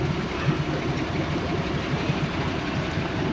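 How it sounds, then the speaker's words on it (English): A boat engine idles steadily after being refuelled with 15 litres, a low, even rumble with a faint rhythmic ticking and no voices. "Idling away."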